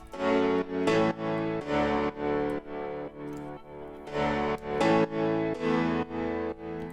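Sustained synth chords in a steady rhythmic pattern, each chord swelling and holding before the next, loud and full with no voices.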